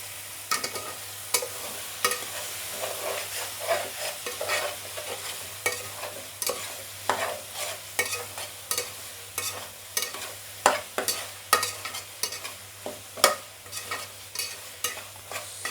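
Pav bhaji stirred and scraped in a pan as it cooks, steady rhythmic spoon strokes against the metal over a soft sizzle, close and fairly loud, with no talking.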